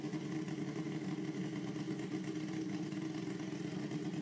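A Kawasaki Pro Mod drag racing motorcycle engine runs at the strip with a dense, steady rumbling drone, loud and continuous throughout.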